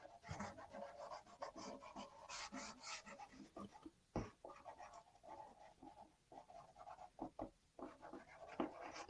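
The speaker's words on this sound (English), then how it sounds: "Pastels can be a little noisy on sanded paper." Pastels dragged over sanded paper, a faint, irregular scratchy rasping of strokes with brief pauses, continuous throughout and heard alone without talking.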